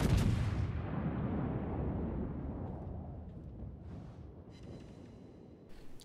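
Scharnhorst battleship guns firing in World of Warships, a single heavy booming salvo at the start with a long rumbling decay that fades over several seconds, no talking.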